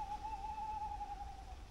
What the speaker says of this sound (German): Guck mal, eine Eule belästigt uns.